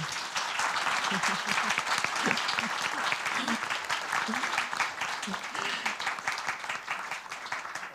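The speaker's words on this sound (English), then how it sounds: "give all the speakers again one time, one more great applause for them" A forum audience applauds speakers after a panel discussion on empowering women through education, with dense, steady clapping that fills the room for the whole stretch, fairly close and even in loudness.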